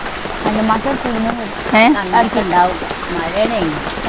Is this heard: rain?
yes